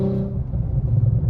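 Engine and exhaust of a bagged Audi S4, a steady low rumbling drone with a deep throb that rises slightly toward the end, close and continuous with no voices.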